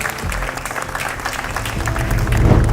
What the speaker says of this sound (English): So let's give a round of applause to the